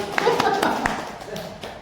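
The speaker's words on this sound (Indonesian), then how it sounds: "Tepuk tangan dulu untuk kelas 1." A school class claps hands in a short burst of applause, a quick patter of overlapping claps near and loud, tapering off as voices murmur underneath.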